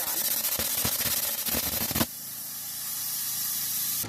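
Plasma cutter running off a portable ABOK 3600 power station, a steady close hiss with crackling bursts for about two seconds before it cuts out, leaving a quieter hum.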